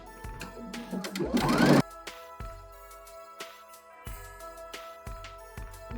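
A sewing machine stitches elastic and satin for indoor slippers, a dense buzzing run that builds louder for a couple of seconds, then stops, followed by shorter bursts and quiet handling between.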